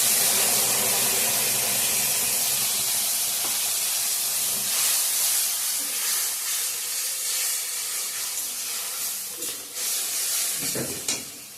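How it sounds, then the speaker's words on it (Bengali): Onion, ginger and tomato spice paste fries in hot oil with a loud, steady broadband sizzle and hiss that carries through the whole stretch, with a few brief stirring scrapes near the end. "এখন পেস্ট করা মশলাটা দিয়ে দেবো, পেঁয়াজ, আদা,"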